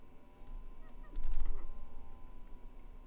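Minecraft chickens, a faint murmur of clucking that swells into a brief honking burst at around one second, set against a low steady game hum with no speech.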